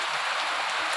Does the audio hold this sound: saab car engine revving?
no